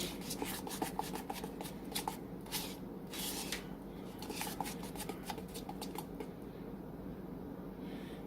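Cream cheese frosting is stirred into icing in a bowl while making Santa-themed cinnamon rolls. It makes a soft, steady scraping and shuffling sound close by, with faint clicks and no talking.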